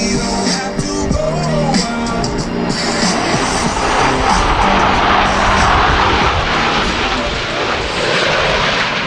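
US Navy Blue Angels jets in the four-ship Diamond formation pass over the Vero Beach air show, a loud continuous roaring jet rumble that holds for the whole stretch with no break.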